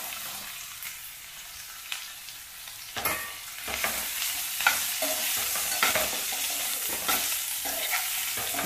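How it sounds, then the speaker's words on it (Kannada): Chayote pieces dropped into hot oil with ginger for a Bengaluru-style palya, the sizzle swelling suddenly and then continuing under repeated spatula scrapes and stirring, close and fairly loud, without talk. "ಈಗ ಸೀಮೆ ಬದನೆಕಾಯಿ ಹಾಕ್ತಾ ಇದ್ದೀನಿ"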